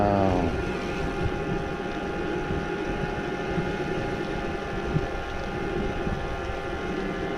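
A Luna folding electric bike's motor runs on throttle alone up a steep 18% grade, making a steady continuous whine and hum with wind noise throughout and no talking.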